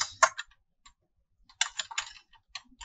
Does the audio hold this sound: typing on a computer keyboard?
yes